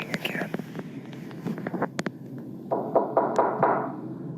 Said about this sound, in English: You're knocking again.